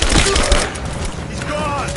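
Gunfire in the video game Tomb Raider, a rapid burst of loud close shots and thuds at the start easing into a dense sustained rattle, with a voice shouting over it.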